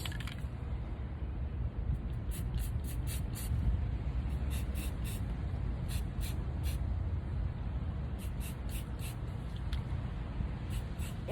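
A spray paint can hissing onto a tumbler in short repeated bursts, sputtering spurts in an irregular rhythm over a quiet room hum.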